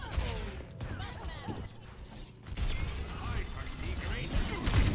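Gunfire hits a player in Overwatch 2, with a rapid spray of shots and mechanical clatter at moderate level over background game noise, and a voice talking through part of it.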